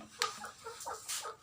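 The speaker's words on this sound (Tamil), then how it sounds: "போத்தா கோழி, பாய்லர் இருக்குது, நாட்டுக்கோழி இருக்குது, கிராஸ் இருக்குது." Chickens at a poultry farm that keeps broiler, country and crossbred birds, giving a few short clucks and squawks spread across a brief moment, fairly close and moderately loud with no talk.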